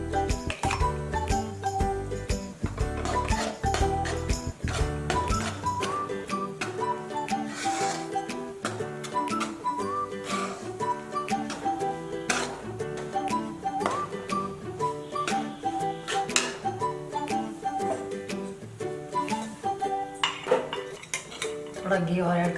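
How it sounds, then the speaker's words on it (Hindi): Wheat flour is stirred into hot ghee in a pan for aata halwa, with a busy metallic clatter of a utensil scraping and clinking against the pan throughout, fairly close, and a voice speaking now and then. "घी गरम हो चुका है, आटा डालूंगी इसमें गेहूं का।"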